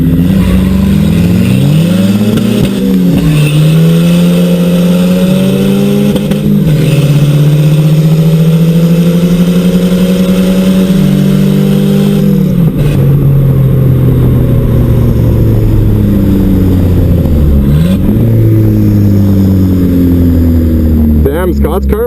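A turbo station wagon stripped for weight accelerates hard through several gears, engine note climbing steadily then dropping at each shift, very loud and close from inside the cabin, with voices talking over it.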